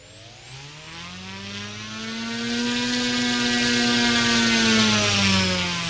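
Simulated engine of a Turbo Timber Evolution RC plane in the RealFlight 9.5 flight simulator, a steady whining drone with a rising, slowly shifting pitch that grows louder as it climbs, heard alone without talk.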